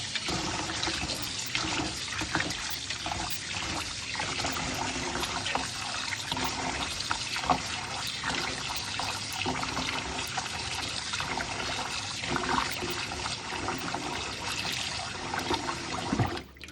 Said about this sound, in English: Rice have to wash.